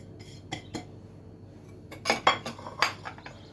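Flour is mixed with almonds and sesame seeds in a bowl. Soft scrapes turn into a cluster of louder clinks and knocks from a utensil against the bowl near the end, close by and heard on their own.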